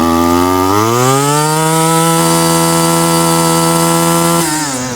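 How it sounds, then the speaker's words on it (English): An old Stihl FS62 string trimmer fitted with a new Harbot WT-45 carburetor runs flat out, its two-stroke engine screaming loudly as it revs up within the first second and then holding a steady, high-pitched buzz close by. "When you get up to running flat out like this"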